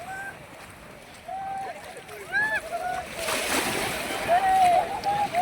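Seawater splashes around a crowd of people bathing in the sea at a busy beach, with a louder burst of splashing midway, under excited shouts and voices nearby.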